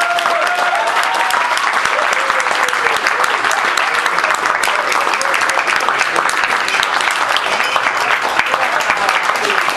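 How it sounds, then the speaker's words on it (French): Warm, continuous audience applause greeting a performer at a French social poetry event, dense and loud throughout with no pause. "je vous demande sans transition d'applaudir chaleureusement Natacha Lagiolia."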